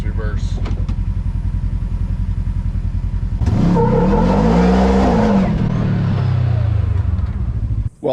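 A truck engine tuned with a DynoJet PV3 revs while the vehicle backs up in reverse. A steady idle rumble swells into a loud, close rising-and-falling rev, then settles into a sustained drone before cutting off abruptly.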